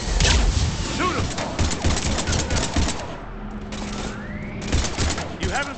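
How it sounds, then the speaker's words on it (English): Rapid bursts of automatic gunfire tear through a sci-fi firefight in Mass Effect 3, loud and close with short breaks, mixed with crashes and shouted voices. "we're taking heavy fire"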